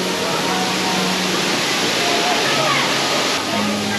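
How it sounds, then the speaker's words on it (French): Waterfall cascades at Toverland theme park, near the Django River area, pour in a steady, loud broadband rush of falling water that fills the whole clip, with no clear speech over it. "Elles sont vraiment stylées ces cascades."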